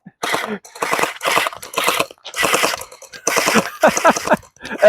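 Gel blaster guns fire in rapid bursts of popping shots, several loud close strings of rapid fire separated by short pauses, with no talk over them.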